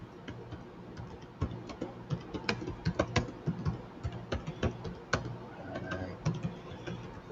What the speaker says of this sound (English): Hopefully, my typing is not too loud.